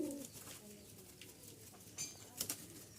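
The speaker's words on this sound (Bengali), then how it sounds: "মাশাআল্লাহ এক জোড়া ডায়মন্ড ডাব আছে।" Pair of diamond doves, a hand-tamed male and a laying female, making faint soft coos with a brief flutter of wings, quiet and close.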